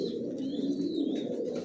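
Racer pigeon chicks in a loft coo in a steady, continuous low murmur. A thin high chirping line runs above the cooing throughout.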